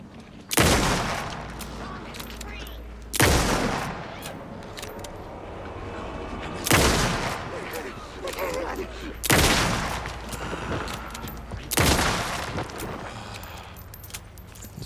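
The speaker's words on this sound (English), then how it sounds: "This gun fucking wrecks." Heavy blasts from an upgraded gun in Alan Wake II, five loud booming shots spaced a few seconds apart, each decaying into a long rumbling tail.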